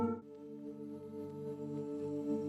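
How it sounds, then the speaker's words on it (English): A soft vocal pad synth patch, the Voice Crease sound from the Slate & Aura Ash plugin, holds a sustained, washed-out chord with a steady hum, quiet and alone with no speech. "There's also a vocal pad that layers in with the intro."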